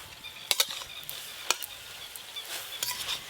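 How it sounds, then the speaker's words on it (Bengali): Mustard greens frying in a pan are stirred, giving a soft background sizzle broken by several sharp scraping clicks of the utensil against the pan, close and with no talk. "এই দেখুন নাড়তে নাড়তে শাকটা কত কমে গেছে"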